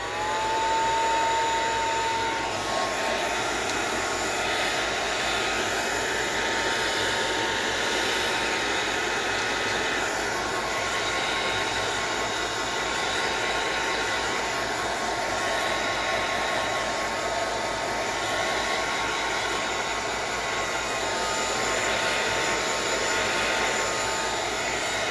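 A handheld heat dryer blows steadily and loudly across a craft notebook page, a continuous whirring hiss with a brief higher whine at the start, holding constant for the whole stretch with no talk.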